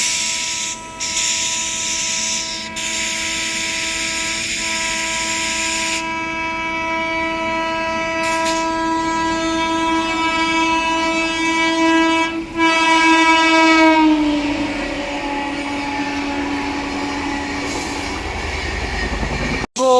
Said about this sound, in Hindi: ओवरटेक करने पटना अमृत भारत एक्सप्रेस।